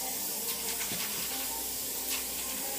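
Kelp noodles being rinsed under a running tap into a sink, a steady continuous stream of splashing water close by with no talk over it.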